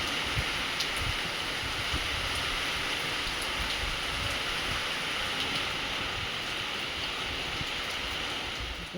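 Steady, dense rain hissing without a break for the whole stretch, broad and constant, with no voices.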